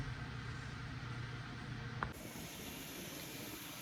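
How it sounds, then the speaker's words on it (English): Steady hiss of steam venting from a pressure canner while canning potatoes, quiet but continuous, with a small click around the middle and then a sharper, brighter hiss afterward. "now we let the pressure build until the steam starts to vent out of here"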